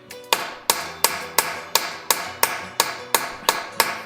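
A hammer strikes metal on a steel table in a steady run of about eleven sharp, ringing blows, evenly spaced and close by.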